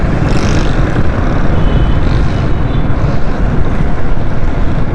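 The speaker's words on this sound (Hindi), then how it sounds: "बहुत तेज़ हवा चल रही है और ठंडी हवा चल रही है" Strong, cold wind roars and buffets the microphone in a loud, unbroken rush with gusty swells.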